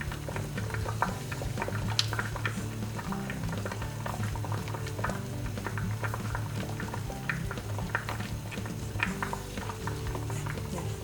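Water bubbles at a steady boil in a saucepan on the stove, serving as a bain-marie to melt coconut oil and chocolate, with soft clinks of cookware over the continuous simmer.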